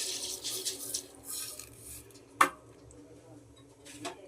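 A spoon stirs sugar syrup for homemade rasmalai in a pot, giving soft scraping strokes, one sharp metallic clink against the rim, and a faint tap near the end, all close and fairly quiet.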